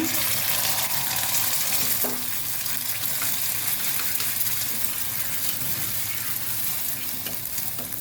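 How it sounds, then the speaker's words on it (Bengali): An egg fries in hot oil in a well-heated wok, giving a loud, continuous, close sizzle that holds steady throughout, with no voices. "ডিম ভাজার জন্য কড়াই খুব ভালো করে গরম করে নিয়েছি"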